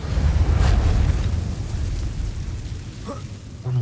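In Hogwarts Legacy, a Reparo repair spell gives off a loud, low, rumbling surge that slowly fades, followed by a short chime-like shimmer near the end. No voice is heard.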